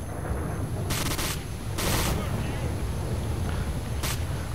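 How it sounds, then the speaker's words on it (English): Bursts of rapid automatic gunfire in the shooter game S.T.A.L.K.E.R. Shadow of Chernobyl, three short volleys over a continuous low background, with a voice talking over it. "This gun fires so fast, it's ridiculous"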